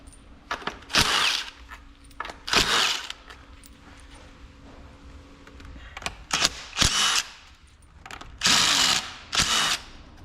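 Several short bursts of a power tool whirring as it removes screws from the mechatronic unit of a 2014 Hyundai Santa Fe 6-speed automatic gearbox, each lasting about a second, separated by quiet pauses with faint clicks.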